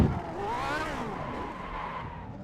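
A race car braking hard into a corner at the Nürburgring, engine pitch sweeping down with tyre noise, close and steady over a couple of seconds, with no one talking.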